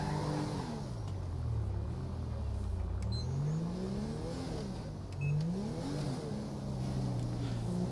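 A Mazda 3 engine revs and accelerates repeatedly in a GTA 5 police chase, pitch rising and falling in waves under a steady roar.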